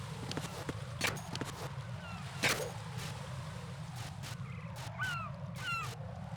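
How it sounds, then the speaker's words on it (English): Seagulls in the Metal Gear Solid 2 video game give several short, faint cries over a steady low ambient hum, with a few soft clicking taps scattered through the scene. "does he just look at the seagulls?"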